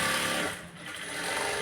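A sewing machine stitches a blouse in a short, fast, buzzing run with a steady mechanical whir that dips briefly in the middle and picks up again, with no voice over it.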